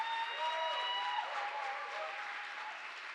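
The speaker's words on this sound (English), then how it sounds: "Give Stephen another big round of applause." A conference audience claps steadily for a presenter at a violence prevention conference in North Carolina, a dense, sustained round of applause that fades slightly toward the end while a voice briefly carries over it.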